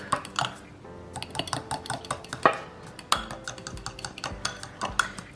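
An egg is whisked into buttermilk in a bowl with a utensil, giving irregular clinks and taps against the bowl's side, close and fairly crisp, with some louder knocks mixed in.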